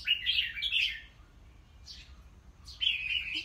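A red-whiskered bulbul calls near a house, giving two bright, warbling bursts of chirps with a faint note between them, over a quiet low hum.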